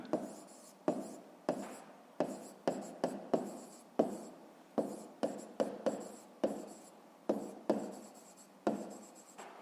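Digits written by hand in a Ukrainian fifth-grade maths exercise, heard as a steady run of crisp pen taps and short scratches on paper. The strokes are close and quiet and come at an uneven pace, with no talk.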